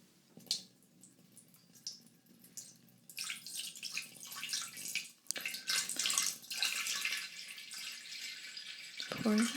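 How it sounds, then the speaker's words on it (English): Water poured from small plastic containers into a stock pot for a simmer pot, a steady close splashing and trickling stream that builds and continues for several seconds, recorded binaurally at close range. "go ahead and fill it up with some water."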